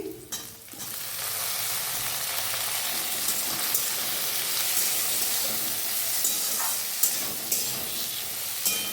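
Tomato frying in a pan with chilli, a steady loud sizzle and crackle that runs unbroken for several seconds, with a few stirring clinks near the end.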